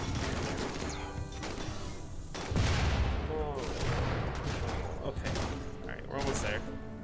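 Doomsday rocket launchers in the game Rimworld fire and explode in a dense battle barrage. Heavy booms, thuds and rapid crackling bursts pile on top of each other, with especially strong blasts near the middle and the end.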